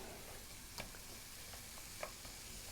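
Japanese bacon pieces frying in a pan, a quiet continuous sizzle with a couple of brief stirring scrapes, heard close with no talking.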